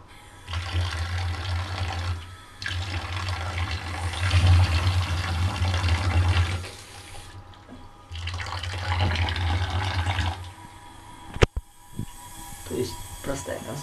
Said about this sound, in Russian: Мы поливаем холодной водой на наш теплообменник